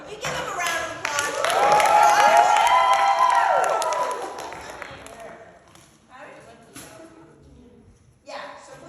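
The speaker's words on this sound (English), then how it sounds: "Can you give them a round of applause?" A church crowd gives a round of applause, with cheering and clapping that swell quickly, hold for a couple of seconds and then fade, while people talk over it.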